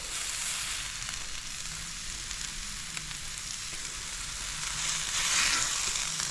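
Red snapper searing on a Blackstone griddle, a steady close sizzle filling the background continuously, growing a little louder near the end, with no talk over it.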